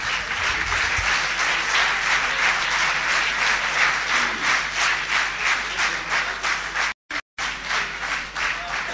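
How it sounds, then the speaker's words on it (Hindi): Theatre audience at a ceremony after a play gives a full, sustained round of clapping, dense and steady throughout with brief dropouts near the end, no voices over it. "आपकी भरपूर तालियों की गूंज में।"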